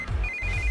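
A telephone rings in a short burst, a steady electronic ringtone tone sounding clearly over low background rumble with no talking.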